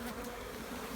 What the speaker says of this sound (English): Getting a heap of bees out now.